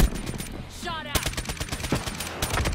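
Rapid machine gun bursts in Call of Duty: Black Ops 3, loud and close, with a short pause before the firing resumes in a dense stream of shots alongside other game sounds.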